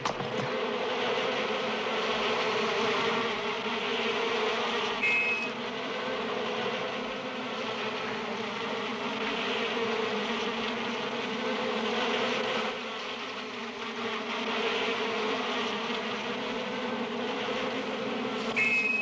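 A swarm of bees buzzes loudly and continuously around a nest being raided by a honey badger, a dense, steady droning hum with slight swells in intensity.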